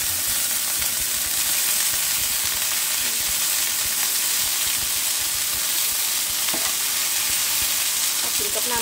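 Wild garlic stir-fried with chili paste in a hot pan gives a steady, loud sizzle with scattered clicks and scrapes of stirring throughout, with no talking.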